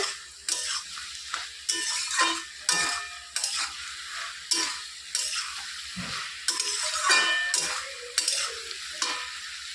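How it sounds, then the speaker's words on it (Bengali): Eggplant, potato and flat beans being stirred in a pan after the lid is lifted, with a steady run of close scraping strokes over a constant sizzle and no talking. "আবারও ঢাকনা খুলে একটু নেড়ে চেড়ে দিতে হবে"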